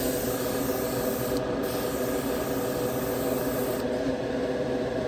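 Spray gun laying a third coat of paint on the hood of a 1956 Chevy Gasser, a loud, steady hiss with two brief pauses in the spray.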